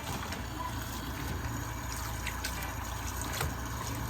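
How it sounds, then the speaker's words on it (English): Water runs and trickles steadily while an oryx hide is rinsed during taxidermy neutralizing, a soft continuous splashing flow at close range with faint clinks, and nobody speaking. "So I will just keep continuing to rinse until my water starts running clear"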